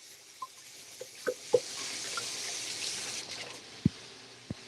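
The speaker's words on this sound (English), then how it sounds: "Rinse my hands off 1 second." Hands are rinsed under a running kitchen tap, a steady soft rush of water with a few small knocks and splashes, close and quiet, with no speech.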